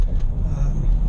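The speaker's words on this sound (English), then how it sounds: "you can hear the truck in V4 mode right now" A pickup truck's Corsa Sport exhaust drones low and steady close by in V4 cylinder-deactivation mode, a deep rumbling hum with faint rhythmic pulsing and no speech.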